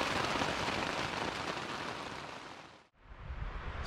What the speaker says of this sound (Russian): Спустя час дождик практически закончился, но еще немного моросит.